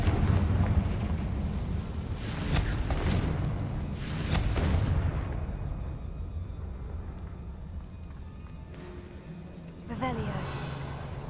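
Explosive fire spell blasts in Hogwarts Legacy, two heavy booming bursts close together early on, fading into quieter game ambience with a brief chiming effect near the end.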